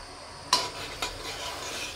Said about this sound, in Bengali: এইভাবে একটু নাড়িয়ে নেব যাতে না তলায় লেগে যায়